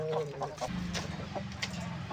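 Hens, heavy birds of about 2.5 to 3 kg that are ready to lay, give soft, low clucks close by. The short, quiet stretch has faint background noise and no speech.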